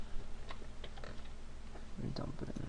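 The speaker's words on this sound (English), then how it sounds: "I'm going to be typing it a lot." Keys on a computer keyboard tapped in short, quiet bursts, close up and faint, with some low background noise.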